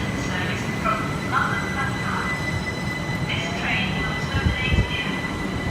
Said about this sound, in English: About to arrive on platform 6 with a class 395 service. Oh no, 375 terminating here.